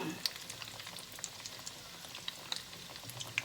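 Swedish strömming fish in batter sizzling in a frying pan, a close, continuous crackle with bright sharp pops every half second or so.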